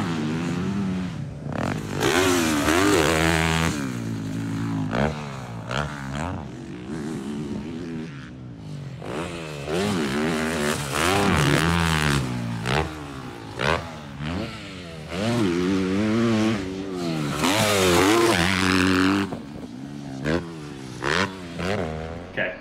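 Dirt bike racing on a dry, hard-packed, slippery track in the Philippines, engine loud and close throughout, revving and shifting pitch as the rider accelerates and backs off.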